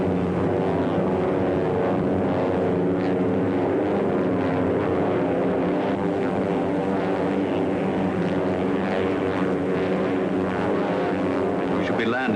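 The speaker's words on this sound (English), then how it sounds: "We should be landing shortly, Baron." A propeller airplane drones steadily in flight, a loud continuous engine roar filling the whole stretch with no pauses.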